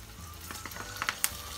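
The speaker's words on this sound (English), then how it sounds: "I'm going to put in my oil here, start to fry them." Mini crispy potato bites frying in hot oil, a soft continuous sizzle with scattered sharper crackles and pops toward the end, close but fairly quiet, with no voices.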